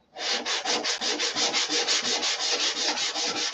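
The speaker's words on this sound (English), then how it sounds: "So we'll sand that again right there and hit it again with some dope." Sanding on an aircraft surface, with fast back-and-forth strokes in a steady rhythm, close and clear and with no talk.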